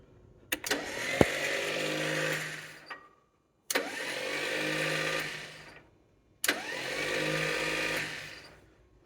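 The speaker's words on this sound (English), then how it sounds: "Starter's spinning okay, but it is not engaging the gear." The starter motor on a vintage 6-volt forklift whirs in three separate bursts of about two to three seconds each, spinning without engaging the gear, with short silences between the cranks and no talking.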